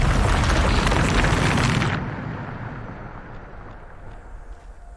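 A Bombarda blasting spell in Hogwarts Legacy goes off as one loud, close booming explosion that roars for about two seconds, then fades into a low rumbling tail.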